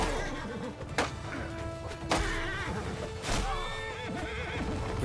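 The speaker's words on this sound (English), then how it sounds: "Get that horse out of the way." Horses whinny repeatedly in a Mount & Blade II: Bannerlord battle, sharp neighs rising over a busy din of hoofbeats and clashing melee impacts.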